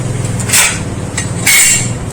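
A hammer strikes a wooden wedge while fitting a hoe or fork head onto its handle, giving two sharp, loud blows about a second apart over a low background hum.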